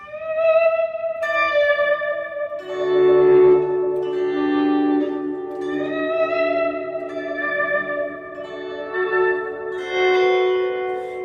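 An electric guitar loop, processed with echo and reverb to mimic a pedal steel, plays sustained, swelling chords with gliding, bell-like tones, moderately loud and without any voices.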